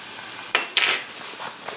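Butter and flour roux sizzling in a Dutch oven while being stirred, with a steady soft frying hiss broken by two or three brisk scraping strokes of the spoon across the pot, close and clear.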